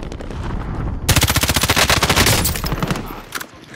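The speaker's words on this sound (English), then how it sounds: "Gunfire to our right." Rapid automatic gunfire in Call of Duty: Modern Warfare, a loud sustained burst of closely spaced shots lasting about two seconds after a lower rumble, then fading.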